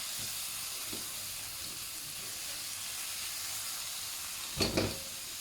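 Onions sizzle steadily in a hot pan for a Thai-style crispy pork dish, a soft continuous hiss with a couple of louder clinks and stirring knocks near the end, with no talking.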